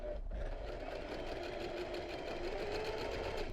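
A sewing machine runs a straight stitch in freehand embroidery with green thread, a steady fast mechanical whirring and rapid needle clatter, close and continuous throughout.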